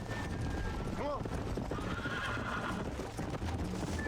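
A horse neighs in Red Dead Redemption during a horse race, a short descending whinny rising over steady hoof clatter and game background noise, with talk in the mix.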